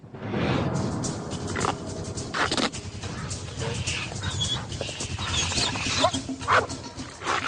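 Four dogs attacking and biting a bite-force meter, with dense growling, snarling and scuffling throughout, loud and close, with busy mixed sounds layered over the animals.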